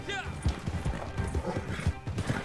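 Horse hooves clopping at a fast pace with a whinny at the start, over Red Dead Redemption game sounds and a person talking.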